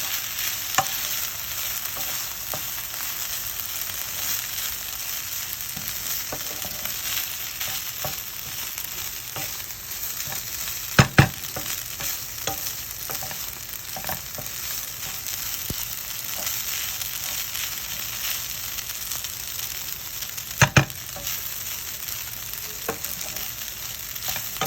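Quinoa and vegetables frying in a pan, a steady sizzle running throughout with soft stirring scrapes and a couple of sharp utensil knocks, no voices.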